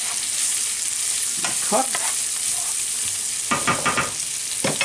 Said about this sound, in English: And now we're going to saute the onions in here.